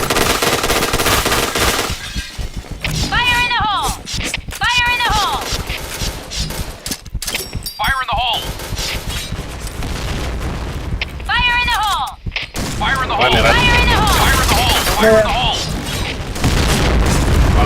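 Loud bursts of automatic gunfire and booms ring out in a bomb-planting shooting video game, coming in repeated rapid volleys between brief gaps, with voices and game chatter mixed in.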